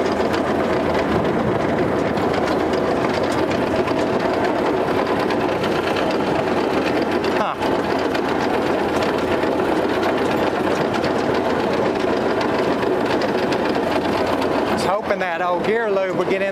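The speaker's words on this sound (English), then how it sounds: "there's definitely some racket coming from that transmission or transfer case." A rare 1959 Willys CJ3B High Hood Jeep being driven, its transmission or transfer case making a steady mechanical whirring racket, loud and continuous throughout.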